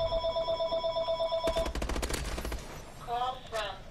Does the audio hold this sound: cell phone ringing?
yes